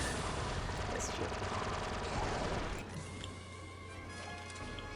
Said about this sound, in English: This kind of reminds me of a SMG, like a Uzi or something.